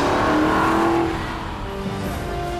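An Aston Martin V8 Vantage roadster's V8 engine revs loudly up close, a strong sustained roar that eases off midway and settles into a steadier lower drone.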